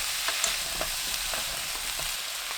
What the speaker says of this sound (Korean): 무 넣고 1분 30초 볶습니다